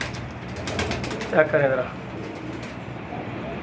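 A golden pigeon coos softly and briefly in the middle of the clip, partly masked by someone talking nearby and a steady background hum.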